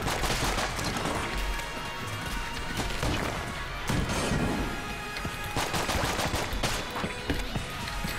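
Rapid, sharp shots from the SAE pistol in Enter the Gungeon, mixed with crashing impacts and smashing sounds in a chaotic, busy barrage that keeps going without pause.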